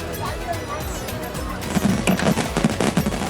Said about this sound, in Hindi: इसके बाद शुरू होता है आतिशबाजी का कार्यक्रम।